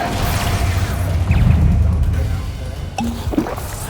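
A Hogwarts Legacy battle erupts with the Expulso spell, a loud close blast with whooshing and crashing impacts while a voice shouts in the middle of the fight.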